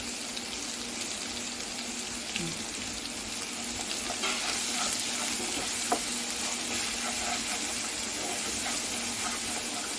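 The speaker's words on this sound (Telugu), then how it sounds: "ఇది అలా ఉల్లిపాయ పేస్ట్ కదా ఇలా వేగిన తర్వాత" Onion paste frying in a pan gives a steady, close sizzle with soft crackles and occasional light stirring scrapes, continuous and fairly quiet with no talking.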